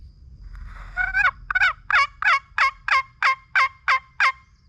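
A turkey box call scraping out a series of about ten evenly spaced yelps, loud and close, with no talking.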